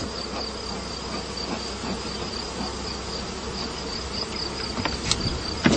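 Honeybees hum in an opened hive, a dense, steady buzzing swarm throughout, close and continuous with no talking.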